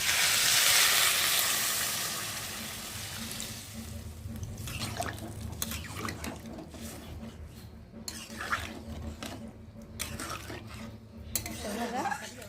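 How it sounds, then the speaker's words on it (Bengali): Water is poured into a hot pan of spiced soybean and potato curry, starting with a loud hiss and sizzle that fades into quieter bubbling and clinks of a utensil against the pan. "আর এখন আমি জল দেবো দেখতে পাচ্ছ।"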